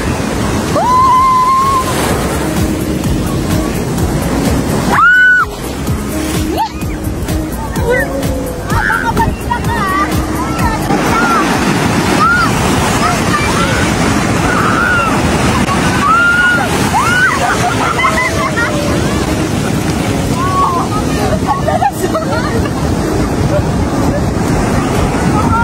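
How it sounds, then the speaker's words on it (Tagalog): Strong ocean waves wash continuously onto Bagasbas Beach in the Philippines, blending with gusts of wind on the microphone, and voices chatter now and then in the background. "Kalakas yung alon, guys."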